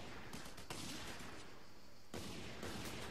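Enemy gunfire in Just Cause 2, a dense continuous fusillade of shots at steady loudness throughout, with no talk over it.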